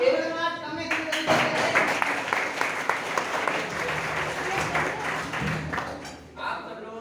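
An audience at a new year school program claps steadily for several seconds, a dense patter of hands with a loud voice over a PA layered on top before the clapping fades near the end.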